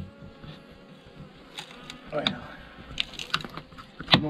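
Bees buzzing around a hive built up with propolis, a low drone mixed into rustling background noise with several sharp clicks and knocks over about four seconds.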